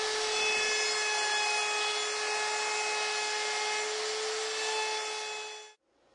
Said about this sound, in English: I round the top and bottom edges of the tabletop with a 1/4 inch round over router